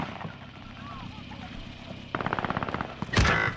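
Automatic gunfire in Call of Duty: Modern Warfare, a rapid burst of a dozen or so shots followed by a louder blast, heard over game background noise and a voice talking.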